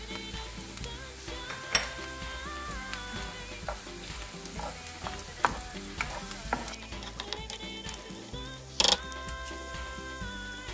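Carrots and chard stems sautéing in olive oil in a frying pan, a constant close sizzle broken by stirring scrapes and occasional clatters of a utensil against the pan.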